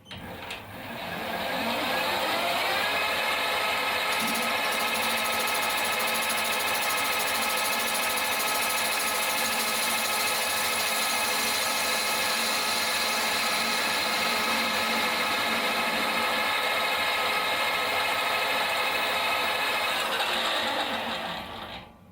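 Lathe cutting the cast flywheel hub of a Farm Boy hit-and-miss model engine: a steady, loud mechanical whir with a high tonal whine, running continuously for about twenty seconds before winding down.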